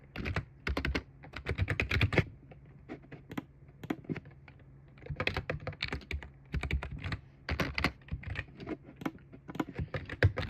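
Rapid, close clacking on a computer keyboard, bursts of fast keystrokes broken by short gaps, steady and moderately quiet throughout.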